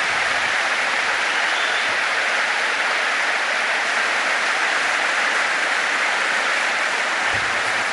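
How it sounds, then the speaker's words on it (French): An audience at a gathering applauds in a dense, steady, continuous roar of clapping that holds at an even level throughout, with no voices standing out. "Vous pouvez applaudir à présent"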